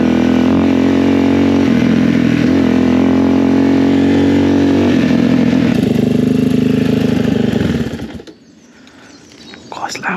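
A Suzuki DRZ 400 dirt bike engine runs loud and close with a steady, throaty drone for about eight seconds, then cuts off abruptly, leaving faint background noise.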